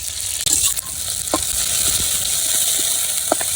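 Chopped onion, garlic and green chili sizzle steadily in hot oil in a village kitchen, a continuous bright frying hiss with a few soft stirring knocks and clicks, close and fairly loud, with no talking.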